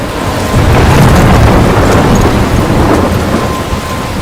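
A thunderstorm with heavy rain in Life is Strange: a loud, steady downpour, with a deep rumble of thunder swelling early and then fading back into the rain.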